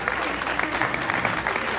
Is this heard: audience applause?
yes